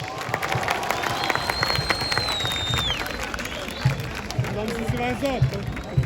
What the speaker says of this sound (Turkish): ekstra alkış istiyorum